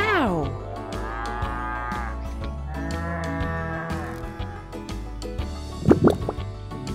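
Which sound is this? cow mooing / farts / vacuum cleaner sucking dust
cow mooing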